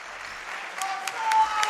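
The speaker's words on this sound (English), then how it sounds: "everyone in the crowd, let's give a huge welcoming hand to Orsa and Cleartonic" A live crowd at a Mega Man 8 speedrun race event breaks into applause, a bright wash of clapping that swells and grows louder toward the end, with a few sharp claps standing out.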